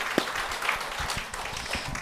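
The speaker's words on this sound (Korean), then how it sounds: "네, 박수." Listeners at a Buddhist monk's question-and-answer talk give a short, soft round of applause, many hands clapping in a steady, fairly quiet wash for about two seconds.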